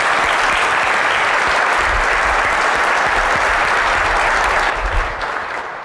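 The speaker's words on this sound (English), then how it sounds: "Help me give the panelists a round of applause" A business chamber forum audience gives the panelists a round of applause, a dense, sustained roomful of clapping that holds steady before tapering off at the end.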